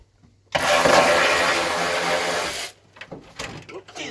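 A power tool, likely an impact wrench, undoes the bonnet bolts on a Nissan Pulsar during an engine swap, giving one loud sustained whir of about two seconds, then quieter clanks and handling noises.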